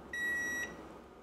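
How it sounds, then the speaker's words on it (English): An Elechomes humidifier gives a single short electronic beep as it switches on, clear and close against a quiet room hum. "Usually it beeps, and you'll know when it's on."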